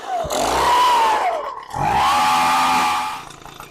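A two-stroke Echo PB-250 leaf blower engine running without its air filter, loud and close, holding a buzzing rev that dips briefly midway before climbing again and staying steady, held back short of full throttle.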